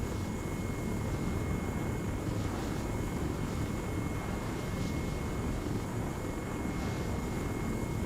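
A helicopter in the video game Arma 3 drones steadily with a constant rotor and engine roar, loud and continuous throughout, with no talking.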